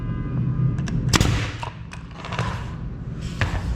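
A nail gun fires into trim along the edge of oak rigid core vinyl plank flooring, giving several sharp, separate pops spaced irregularly over a few seconds against a busy room background.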